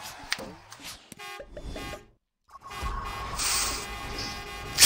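A car horn honks in the Toy Box Turbos racing video game, short toots against game engine noise, with a person talking loudly over the gameplay.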